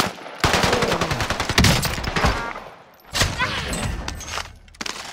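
Rapid machine pistol bursts in a multiplayer shooter video game crackle in two long, dense strings separated by a short pause, loud and close, with scattered extra shots at the end.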